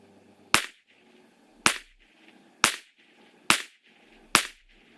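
A PSA Rock pistol fires 40 grain AAC ballistic tip rounds: five sharp, loud cracks spaced about a second apart, each with a short decaying tail.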